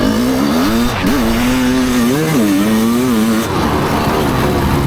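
A Honda CR500 dirt bike ridden at night under lights roars close and loud, its engine pitch surging and dipping in repeated revs as the rear wheel spins, with no talking.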